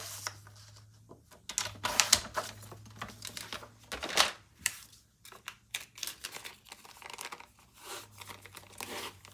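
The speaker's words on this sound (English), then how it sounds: "So I'm going to cut some cardstock here." Scissors cutting cardstock for paper crafting, heard up close as a run of crisp snips and rustling paper with short pauses between bursts, no talking.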